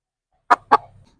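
A black hen gives two quick, close clucks, one right after the other, with a soft trailing murmur and otherwise silence.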